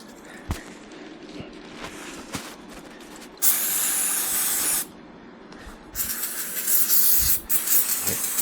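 Aerosol brake cleaner sprays onto a scooter's brake caliper in two loud hissing bursts, each lasting a second or more, with quieter clicks and handling noises between them and no talk.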